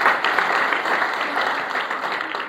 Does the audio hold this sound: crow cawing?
no